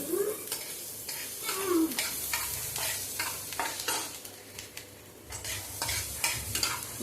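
Onions sizzle steadily in a hot pan while being stirred, with scraping strokes against the pan throughout, close and moderately loud.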